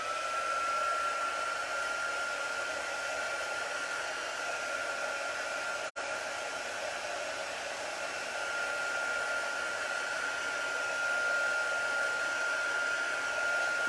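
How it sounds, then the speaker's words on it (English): A hair dryer blowing on chalk paste during a crafting session: a steady, even whooshing hum with a constant whine, running without a break for the whole stretch apart from one brief click midway, no voices. "Let me bring in my dryer here so we can just dry this off."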